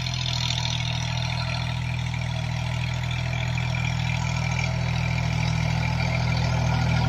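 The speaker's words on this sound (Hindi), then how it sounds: "महिंद्रा जियो 2365 DI, इससे जो है तो बुआई शुरू है।" Steady, loud idle-to-working drone of a Mahindra Jivo 365 DI tractor engine sowing onion seed in a field, a continuous low rumble with no talk throughout.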